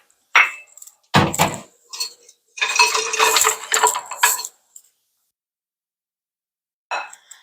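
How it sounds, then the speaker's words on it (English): A whisk stirs flour, baking powder and baking soda in a bowl for a vanilla cake, giving bursts of metallic clinking and scraping against the bowl, separated by short silent gaps and one final brief clatter, close and without talk. "you're going to take your flour, baking powder, and baking soda and just whisk it into a bowl"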